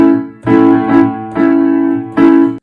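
A piano chord is played in a rocking rhythm, rolled from the bottom note to the top and then struck again. Three sustained, ringing chord attacks sound close and clear, each fading slightly before the next, with no voices.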